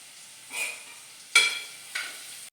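Crushed ginger and garlic hit a hot pulao pan with roasted onion, making three short sizzling bursts that rise and fade over a quiet background.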